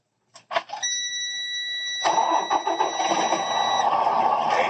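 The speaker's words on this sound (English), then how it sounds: "When I start the engine, there should be an ABS light come on and go off." A truck engine is started during a pre-trip inspection with the clutch in and the transmission in neutral. A few clicks and a steady warning tone come first, then the engine cranks, catches and settles into a loud, rough idle.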